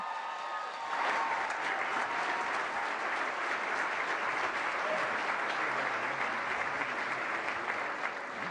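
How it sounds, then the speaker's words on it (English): An audience applauds musicians at an event, sustained dense clapping that starts after a brief lull and rolls on evenly, moderately loud and spread out, with no one talking over it. "Can we get another round of applause for them?"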